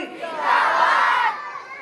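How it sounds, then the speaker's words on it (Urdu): A crowd at a madrasa annual religious gathering roars a takbir slogan in unison, one loud sustained shout swelling and fading within about a second. "اٹھائیے اور نعرہ لگائیے، نعرہ تکبیر، نعرہ رسالت، مسلک اعلیٰ۔"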